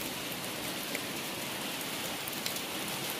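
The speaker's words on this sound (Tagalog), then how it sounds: "Grabe yung ulan talaga dito sa aming lugar." Heavy rain pours down during a windy afternoon storm in Mindanao, a dense, steady hiss of drops that stays unbroken throughout, with no voices.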